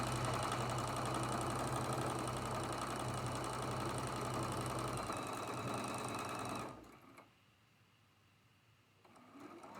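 A sewing machine stitches quilt block seams in a steady, loud, fast mechanical whir for several seconds, then stops abruptly, leaving faint room tone before a soft restart at the end.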